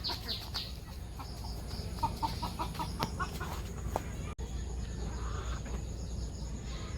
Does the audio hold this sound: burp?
no